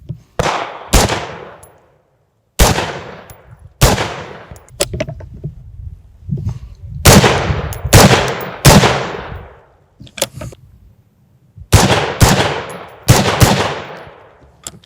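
Rapid rifle shots fired outdoors in quick pairs and bursts during multi-target drills with a rifle wearing a Brownells MPO 1-8x24 LPVO optic, loud sharp cracks with short gaps and ringing decay, no talking.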